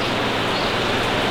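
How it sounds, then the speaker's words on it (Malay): Heavy rain pours without a break in Kalimantan, a dense, loud, even hiss with no voices. "Pagi-pagi ni keluar hujan dan hujannya akan kuat."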